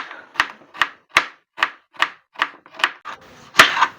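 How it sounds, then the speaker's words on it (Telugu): A knife chopping onion on a board: about ten crisp, evenly spaced chops at a steady rhythm, close and clear, ending with a slightly heavier final stroke. "ఇప్పుడైతే నేను ఉల్లిగడ్డ అయితే కోస్తానండి"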